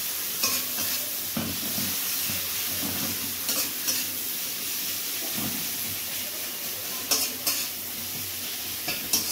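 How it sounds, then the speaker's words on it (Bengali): Chopped onions fry in hot oil in a pan, giving a steady loud sizzle and hiss broken by several sharp scrapes and clinks of stirring, with no voices. "পেঁয়াজ কুচোগুলো প্রথমে সাধারণ করে ভেজে নেওয়া হবে।"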